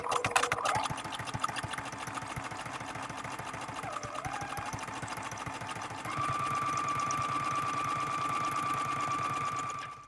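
Sewing machine running a zigzag stitch around the edge of a card, a rapid, even mechanical chatter close by that shifts to a slightly higher, steadier whir near the end.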